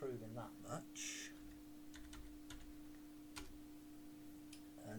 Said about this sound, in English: And as you can see, my typing skills are still incredibly slow, not improving that much.